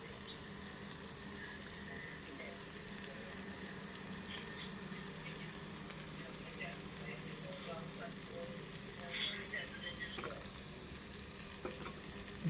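Okra (bhindi) frying in a pan with lemon juice squeezed in, stirred with occasional utensil clinks over a soft continuous sizzle, fairly faint and close.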